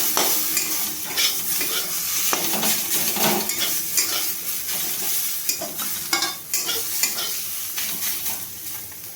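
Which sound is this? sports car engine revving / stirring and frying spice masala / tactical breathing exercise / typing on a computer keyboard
stirring and frying spice masala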